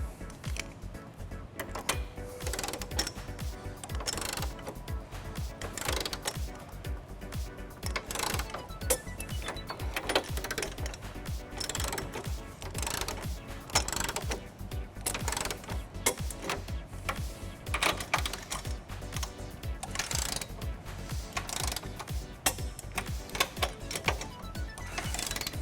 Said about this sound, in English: we're going to tighten and torque all of our nuts to the manufacturer specification. We're going to be using a 19mm socket